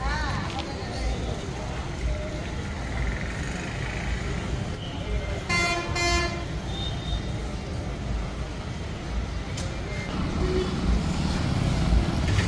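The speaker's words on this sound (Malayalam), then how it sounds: "ഇതാണ് കേട്ടോ തേനി ബസ് സ്റ്റാൻഡ്" Traffic rumbles at the Theni bus stand in Tamil Nadu as buses idle and move, with a brief horn-like blast midway under a continuous hum, while a person talks over it.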